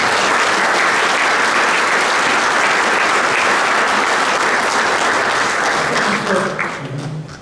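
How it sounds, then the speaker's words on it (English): Loud, sustained audience applause at a 2023 Derby inauguration ceremony, greeting a probate judge with dense steady clapping that fades slightly near the end. "Let's give a nice round of applause for our great judge of probate"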